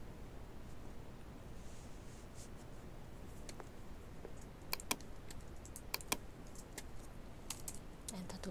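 Computer keyboard typing with scattered sharp key clicks, including Enter key presses, in a quiet room during a Photoshop exercise; soft steady background hiss, clicks sparse then clustering toward the end.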